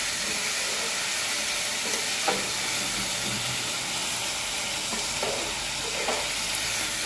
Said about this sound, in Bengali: টমেটো কুচি, টমেটো কুচি দিয়ে ভালো করে নেড়ে নেব।